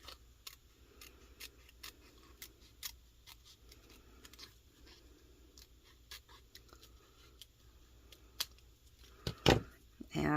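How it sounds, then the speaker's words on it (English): Quiet, repeated sharp snips of large scissors cutting a thin sticker sheet, irregularly spaced, with a few louder clicks and rustles toward the end. "Should probably not be using the biggest pair of scissors I have in my room"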